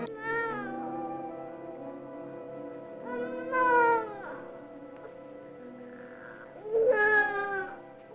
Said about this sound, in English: all you hear is the sound of a child crying